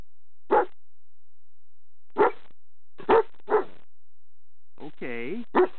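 A puppy barks alone in a quiet room, giving a few sharp single barks spaced apart, then a short whining yip followed by one more bark.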